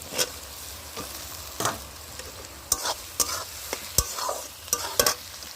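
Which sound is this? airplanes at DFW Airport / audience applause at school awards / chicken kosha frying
chicken kosha frying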